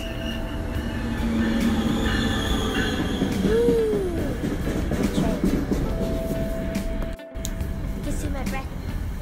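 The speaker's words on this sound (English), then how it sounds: "we took the air train and now we're going to take the real train" A passenger train in New York City rumbling steadily along the rails, with wheels squealing and a sustained tone, loud and close throughout with a brief dropout near the end.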